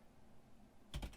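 A few quick keystrokes on a computer keyboard, a short burst of clicks after a moment of near silence, faint and close.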